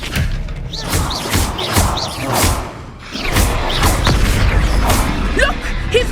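Expelliarmus is cast in Hogwarts Legacy: a series of heavy magical thumps and booming bursts in a loud fight, with voices breaking through between the impacts.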